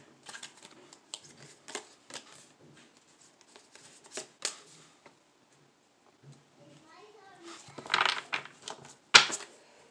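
Tarot cards are shuffled up close in quick, papery riffles and flicks that come in scattered bursts, broken by brief pauses and a louder flurry near the end.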